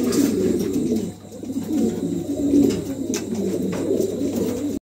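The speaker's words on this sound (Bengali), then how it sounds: "মাশাআল্লাহ দেখার মতন একজোড়া কবুতর।" A pair of pigeons in a market selling birds coo in repeated low, throaty rolls, near and moderately loud, with a brief pause partway through and no speech.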